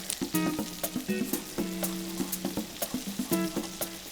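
Pot roast meat searing in a pan, sizzling under repeated sharp clinks and scrapes of a utensil as the meat is turned.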